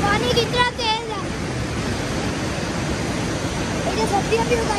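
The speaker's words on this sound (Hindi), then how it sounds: "पानी कितना तेज है।" Fast-flowing water of the River Swat rushing in a loud, steady roar, with a person's voice talking faintly over it.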